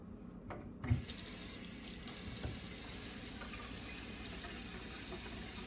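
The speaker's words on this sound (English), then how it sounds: "spray it on a vessel, pour some water and make a paste and wash it off" Tap water runs steadily into a kitchen sink while a teacup is washed with natural soap-nut dish powder, a continuous close hiss with a brief clink of the cup near the start.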